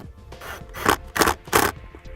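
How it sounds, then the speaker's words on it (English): Self-tapping screws driven with a 1/4 inch nut driver while mounting a trailer brake controller kit: three close, rasping grinding bursts of rotation, each about a quarter second, with quieter scraping between them and no talk. "I'm going to be using a 1/4 inch nut driver to put them in place."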